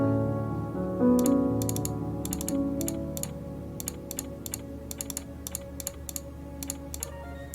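Computer keyboard being typed on while playing The White Door, a run of sharp, close key clicks in uneven bursts over a low steady background hum, with no talking.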